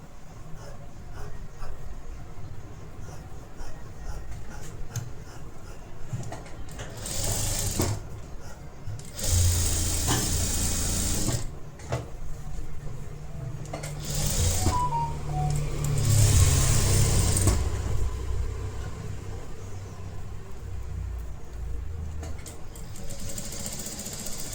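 Sewing machine stitching blouse fabric, its motor running in steady whirring bursts of several seconds each, loudest in the middle, with quiet pauses between runs.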